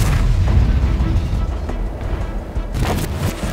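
Tank cannon firing in a video game, with heavy booming blasts and rumble, the loudest burst near the end, under a voice talking.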